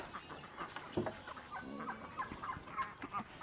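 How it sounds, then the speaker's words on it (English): Chickens on a farm with goats nearby cluck in short, irregular bursts at moderate distance, with faint rustling and scattered calls throughout. "Excuse me, chickens."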